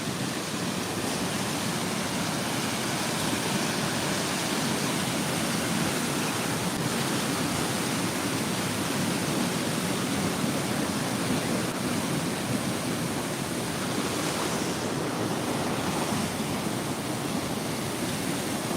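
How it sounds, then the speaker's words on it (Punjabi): Water rushing steadily through canals and irrigation channels during a morning walk in rural Punjab, a constant broadband wash that stays even and unbroken throughout, fairly close with no voices. "ਵਗਦੀਆਂ ਨਹਿਰਾਂ ਤੇ ਸੂਏ"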